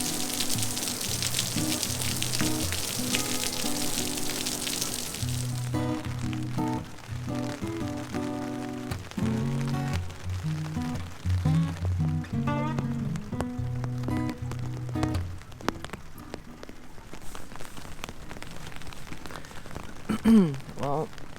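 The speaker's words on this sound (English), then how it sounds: "this is our first real experience with a lot of rain" Rain falls steadily on a surface during a kayak-sailing trip along the Intracoastal Waterway in eastern Florida, a continuous hiss mixed with intermittent tonal sounds.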